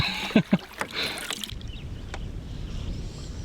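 A canoe is paddled on Rosebary Lake in Algonquin Park, with a few sharp knocks and splashes of strokes at the start, then a steady soft rush of water and wind close by.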